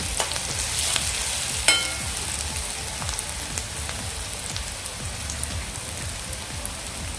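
Sliced onion frying in a pan for chapati chivda, a continuous close sizzle with crackling pops and scraping spatula strokes stirring through it, one sharper knock near the start, no voices.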